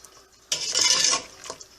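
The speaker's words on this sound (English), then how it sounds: "You just want to stir it" A utensil stirs beef karahi in a metal cooking pot, producing a short scraping, clattering burst of about a second, close and moderately loud with no talking.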